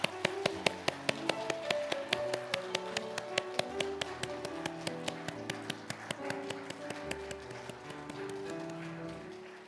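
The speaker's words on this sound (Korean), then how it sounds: "하나님께 영광의 박수 올려드리겠습니다" A church congregation clapping in a fast, steady rhythm during a Sunday worship service, many hands together in sharp regular beats over music, moderately loud and continuous.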